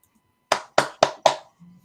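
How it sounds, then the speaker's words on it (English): Four sharp hand claps in quick, even succession, close and crisp, followed by a brief faint murmur. "I don't know why I'm clapping"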